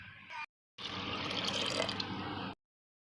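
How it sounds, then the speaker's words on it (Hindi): Water is poured into a pressure cooker holding peas and potatoes for Odia ghuguni, a steady close splashing pour lasting about two seconds between brief pauses. "एबे आमे किछि पानी दबा"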